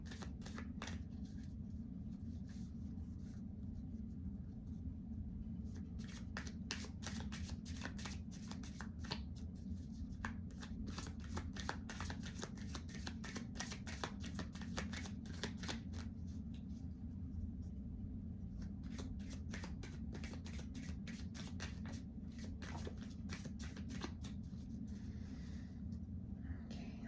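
A deck of cards being shuffled, with a steady run of crisp riffling clicks over a low rumbling background that lasts throughout, fairly faint and with no clear talk.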